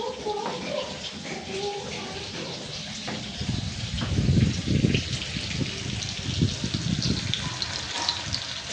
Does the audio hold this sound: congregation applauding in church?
no